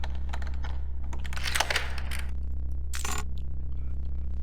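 Lockpick working a lock in the video game Thief Gold gives off a run of small metallic clicks and ticks, with a brighter scraping burst near the end, all over a steady background hum.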